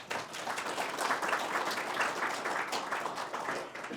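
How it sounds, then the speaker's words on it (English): An audience at an affordable housing and transit-oriented development panel gives sustained applause, a moderately loud, evenly textured clapping that swells slightly in the middle before easing off, with no talking over it. "Again, let's give them a round of applause."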